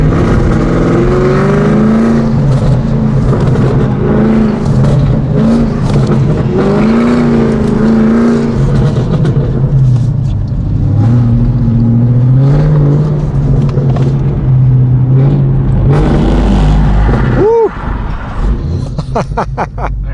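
A manual transmission car drives past on a course, its engine revving up and down through the gears with rising and falling pitch sweeps. The engine is loud and near, and a brief sharp chirp sounds near the end.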